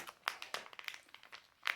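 A small plastic packet from a Smashers Mini Light-Up egg toy is flattened and crinkled, giving close, quiet, irregular crackles and rustles with a few sharper snaps.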